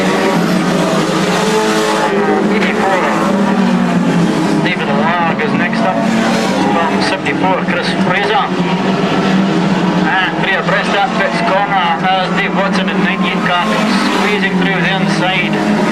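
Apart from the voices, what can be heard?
stock cars racing on Crimond track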